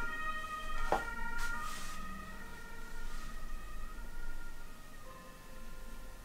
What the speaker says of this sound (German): Blaulichtfahrzeug mit Sirene ist auch wieder vorbei.